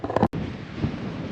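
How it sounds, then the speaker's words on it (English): Gusty wind on Qilai Mountain in Taroko National Park, Taiwan, buffets the microphone with a rough, blustery roar, broken by a brief cutout near the start. "It's pretty windy."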